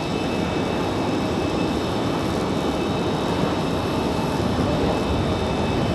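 Copa Airlines Boeing 737 MAX 9 jet arriving fast from Panama City at Raleigh-Durham, a strong, steady broadband engine roar with high whistling tones, unbroken and close.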